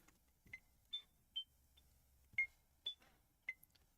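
A SQUiXL device emits a series of short, faint beep tones at varying pitches, about seven quick chirps spaced irregularly over a quiet background, some sounding like small ticks.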